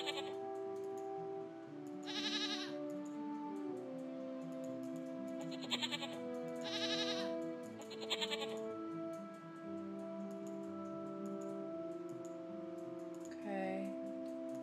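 A goat bleats repeatedly in the Rusty Lake Paradise puzzle game, several wavering cries spaced over a soft game music background, with a brief voice heard quietly.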